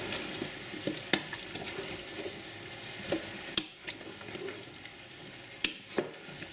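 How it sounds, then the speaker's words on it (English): Roughly chopped tomatoes and peppers are stirred in a pot, a faint wet sizzle broken by scattered soft scrapes and clicks of a spoon against the metal. "add my 3 kilos of roughly chopped tomatoes. What we'll do, we'll give that a stir."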